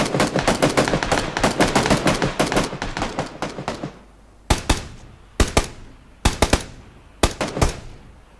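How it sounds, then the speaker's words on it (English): Gunfire in the Battlegrounds video game: a rapid automatic burst of loud, close shots, then sharp single and paired shots spaced apart, with no talk. "He notices Senna and starts to shoot him."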